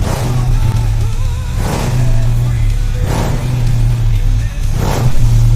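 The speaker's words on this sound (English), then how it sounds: "The exhaust note alone tells you this is built for performance." A Pontiac muscle car's exhaust rumbles loudly and close at a car show, with a deep steady idle punctuated by three sharp revs, while voices talk over it.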